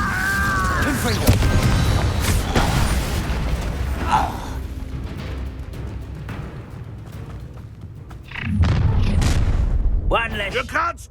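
Confringo fire spell blasts in the Hogwarts Legacy video game, loud booming bursts with crackling impacts amid combat noise and game voices, a heavy burst returning near the end.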